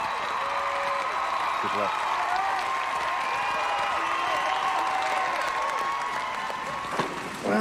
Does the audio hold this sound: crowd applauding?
yes